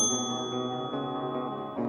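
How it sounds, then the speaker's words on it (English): A single bell chime rings in a quiet house at night, one clear struck tone with bright overtones that sustains and slowly decays alone. "I heard a single chime."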